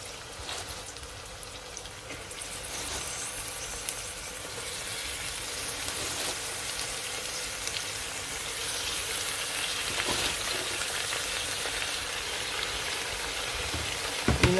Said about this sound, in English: And now I will add my spinach.